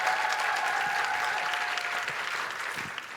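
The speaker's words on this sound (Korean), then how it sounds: "다시 한번 큰 박수 부탁드립니다." Large audience applause at a Korean women's party founding convention honoring a speaker, a dense, loud, sustained clapping that holds steady and eases slightly toward the end, with a faint tone running beneath.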